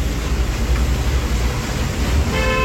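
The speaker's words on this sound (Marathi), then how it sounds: "गाडी दणकत जाते आता." A car jolting along a badly broken road, with loud, constant low road rumble and body noise heard from inside the vehicle and no break in the racket.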